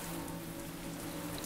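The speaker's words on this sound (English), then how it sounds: "Oh, it's raining outside." Steady rain falls outside in the video game Flee the Facility, a continuous dense patter with a low hum beneath it and no talk.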